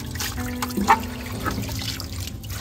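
Tap water runs steadily while raw fish is washed upstairs at home, a close, continuous trickle and splash with a few brief clatters, no talking.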